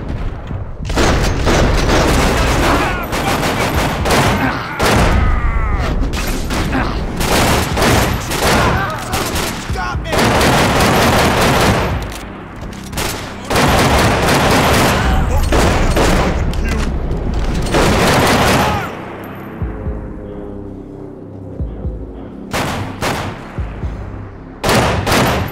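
Gunfire and explosions from the video game Max Payne 3 come loud and dense: rapid volleys of shots and heavy booms hammer almost continuously, with a few brief lulls and a voice occasionally under the barrage.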